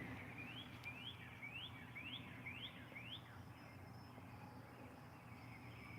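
Wild bird, a whistler, calling outdoors with a series of about seven short rising whistled notes at a steady pace, faint and distant over low background rumble.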